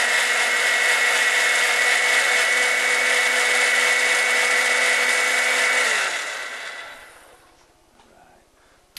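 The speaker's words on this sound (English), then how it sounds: "blender. I'm going to process this just to make it nice and smooth and bring it all together." A blender mixing a cocktail whirs loudly at a steady high speed for several seconds, then winds down and cuts off.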